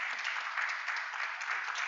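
A congregation in a church gives a short burst of applause, a steady, fairly soft wash of many clapping hands with no break.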